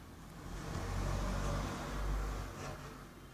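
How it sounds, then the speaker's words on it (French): A car rumbles past outside, a low, steady engine drone swelling and fading twice, moderately loud with no talking. "excusez-moi pour le bruit de la voiture"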